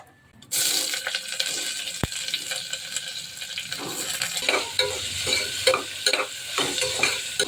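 Onions and biryani spices such as cinnamon and cloves fry in hot oil, giving a steady close sizzle with scraping stir strokes that grow more frequent toward the end, after a sharp clink near the start.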